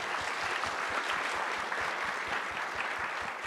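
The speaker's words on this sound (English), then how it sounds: "So a big round of applause, please." An audience at a security dialogue panel session applauds, with dense, sustained clapping that stays loud and even for the whole stretch.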